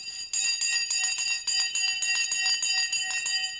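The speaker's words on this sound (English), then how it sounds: "The bell has now gone." Stock market opening bell ringing continuously, a loud rapid metallic clanging ring sustained at steady volume without pause or talking.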